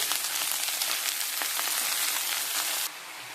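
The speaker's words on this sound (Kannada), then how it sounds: "ಒಂದು ನಿಮಿಷ ಆದಮೇಲೆ ತೊಳೆದಿಟ್ಕೊಂಡಿರೋ ಕೋಸನ್ನು ಹಾಕಿ" Washed cabbage sizzles and crackles steadily in a hot pan, a dense, close frying hiss that drops to a softer sizzle near the end; no one speaks.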